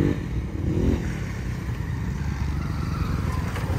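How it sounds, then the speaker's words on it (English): Amazon ATV engine revving at full throttle outdoors in the Colorado backcountry, a steady rough buzzing drone with rattling, loud and continuous throughout. "I went out and tested the ATV just to make sure everything was working"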